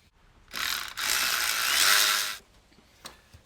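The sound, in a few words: loosening hose clamp on air box of Chrysler 200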